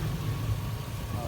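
A 1968 Chevelle restomod with an LM7 5.3-liter engine, long-tube headers and dual exhaust runs at a steady idle in the background, a low continuous rumble under a voice.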